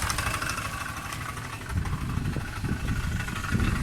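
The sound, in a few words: knocking engine running, suspected overrunning clutch near generator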